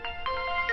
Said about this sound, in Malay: Minta maaf, ada telefon.